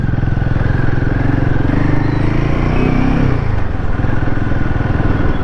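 An adventure motorcycle, a Royal Enfield Himalayan 450 or Triumph Scrambler 400X, is ridden through the city. Its engine makes a loud, steady, close drone that runs unbroken for the whole stretch.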